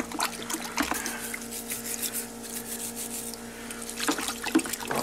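Carburetor parts for a Honda Reflex NSS250 scooter are swished and rinsed in a bucket of very hot soapy water, giving soft trickling and sloshing sounds with a few sharper splashes.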